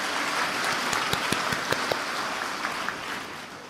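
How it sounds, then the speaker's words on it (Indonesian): University graduation ceremony audience applauding in a large hall, a broad, even roar of many hands with a handful of sharper nearby claps, fading slightly toward the end. "maka mohon tepuk tangan bagi Anda semua"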